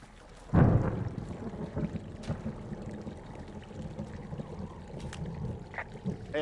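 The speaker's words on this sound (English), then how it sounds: "Hey, I heard some thunder." Thunder rumbles in the video game Firewatch, a loud low crack followed by a long rolling grumble that fades slowly, alone without talk.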